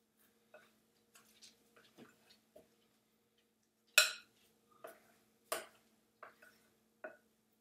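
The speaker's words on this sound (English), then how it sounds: "Mix that in nicely." Savory donut dough is mixed with sour cream and flour in a bowl, heard as sparse, quiet taps and scrapes of a utensil against the bowl, irregular and close, with a faint low hum beneath.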